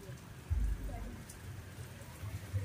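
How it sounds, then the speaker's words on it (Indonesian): Steady rain falls at an outdoor night party with a sound system, a continuous soft hiss with low rumbling thuds underneath. "suasananya hujan lho"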